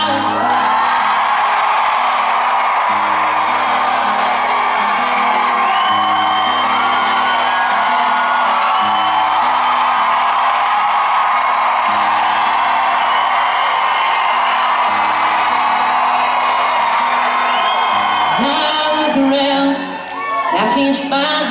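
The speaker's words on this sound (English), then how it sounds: "And I hear the crowd." A concert crowd at an Ashley McBryde country show in Cincinnati, Ohio, cheering, whooping and yelling loudly and continuously, with music underneath and some shouting near the end.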